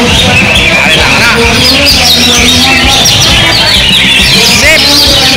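Cucak ijo green leafbirds singing at a crowded bird contest arena, with bright chirping phrases running continuously over loud crowd babble and chatter.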